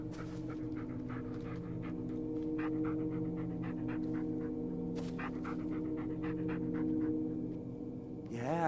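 A dog panting in the dark forest of the Blair Witch video game, a quick steady rhythm of close, soft breaths running throughout over a low ambient drone.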